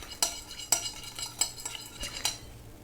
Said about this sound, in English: I'm just going to give this a stir